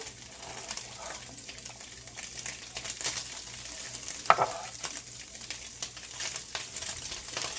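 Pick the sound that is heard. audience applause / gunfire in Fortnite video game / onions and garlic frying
onions and garlic frying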